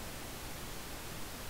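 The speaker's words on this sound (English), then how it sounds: "here's Smart 8 running pink noise." Pink noise test signal from Smaart 8 measurement software plays as a steady, even broadband hiss, constant and alone with no pauses.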